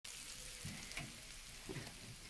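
Hot oil hisses and sizzles steadily as it is poured over baklava baked in a village wood-fired oven, a bright crackling fizz with a few soft bubbling pops, close and fairly quiet.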